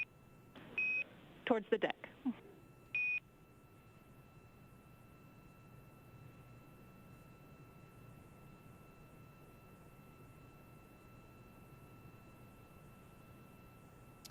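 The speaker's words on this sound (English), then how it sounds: "those beeps are Quindar tones" Quindar tone beeps on ISS mission audio during hatch closing for the SpaceX Crew-1 departure, a few short electronic beeps early on, then a steady faint hum with brief speech.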